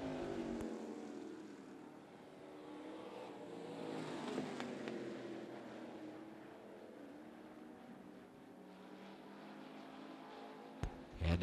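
Street stock race cars roar around Smoky Mountain Speedway in a night main event, a continuous engine drone rising and falling as the field passes, loud and fairly close with no voices.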